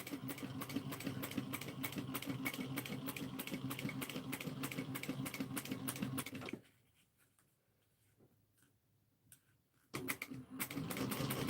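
A sewing machine back stitches through leather and suede while binding an Erica bowler bag: rapid, even stitching runs steadily for about six seconds, stops into near silence, then starts up again.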